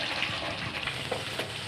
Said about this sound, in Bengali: মাছগুলো ভাজা হয়ে গেছে,